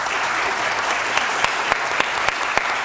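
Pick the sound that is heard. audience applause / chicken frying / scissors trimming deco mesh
audience applause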